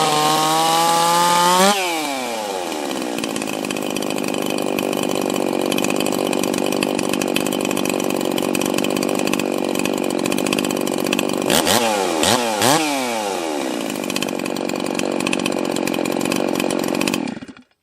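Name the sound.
chainsaw running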